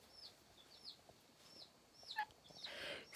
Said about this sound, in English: So I have some new chicks here.